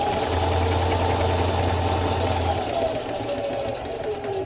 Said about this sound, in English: I'm just gonna go and sew